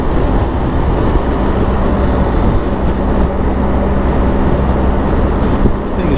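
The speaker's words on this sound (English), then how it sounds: "Motorbike is running like a dream." Motorbike running on a road trip from Tokyo to Hanamaki in Japan, heard as a loud, steady engine drone with heavy wind rush throughout, as if recorded while riding.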